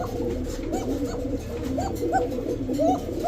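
Pigeons, including Arabian kokka birds, coo at a pigeon market, with soft rolling calls repeating steadily close by over a low, constant background hum.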